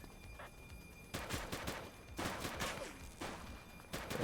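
Gunfire in a police video game, several rapid bursts of shots cracking out in quick succession, loud and close, with brief gaps between volleys.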